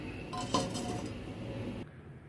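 A metal lid clinks down onto a pot of eggplant and karamani gravy, a single close clatter followed by a faint rattle and then quiet.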